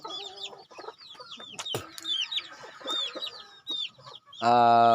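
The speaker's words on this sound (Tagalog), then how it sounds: "Umabot na naman ng 300 piraso naman yung mga manok ko dito" Several chickens on a large poultry farm of about 300 birds cluck and squawk nearby in quick, overlapping calls, ending with a loud, harsh crow-like cry.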